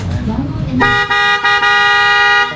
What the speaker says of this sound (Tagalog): Busina na.